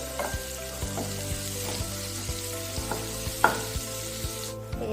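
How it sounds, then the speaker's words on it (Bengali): Onions frying in a pan, a quiet continuous sizzle with a light irregular tapping and a sharper clink near the end, close and without talk. "এবার পেঁয়াজটা একটু ভাজা ভাজা হোক।"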